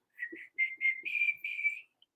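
A person whistles a short tune of sustained notes in a few phrases, close and clear, with no talk.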